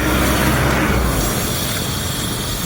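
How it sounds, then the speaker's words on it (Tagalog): A mixed jeepney passes along a road near Vista Mall, its loud engine rumble and traffic noise steady and close, easing slightly after the first second with no voices heard. "Papuntang Pitix ang mixed jeep."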